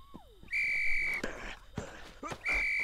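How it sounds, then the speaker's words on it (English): A shrill whistle in the video game The Sims 2 sounds in repeated sustained blasts, interrupted by clattering noises and a sliding tone at the start. "that's where the whistle was coming from"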